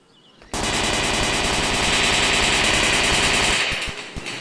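Rapid machine gun fire in the video game Dude Theft Wars, a loud sustained burst of evenly spaced shots lasting about three seconds, then a few trailing pops as it tapers off.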